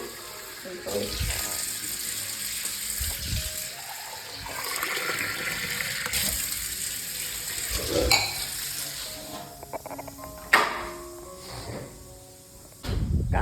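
Water splashes and runs intermittently alongside clinks of pots and dishes, with a few scattered sharp knocks and some background voices.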